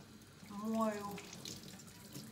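Tap water runs steadily over fish being washed in a kitchen sink before salting. It is a short, moderately close splashing stream with a brief swell near the middle.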